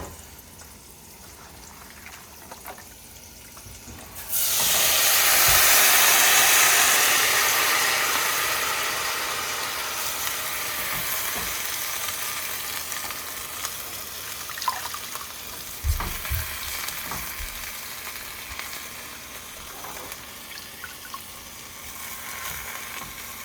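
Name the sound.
cooked-down cabbage being browned in a pan for a vegan meal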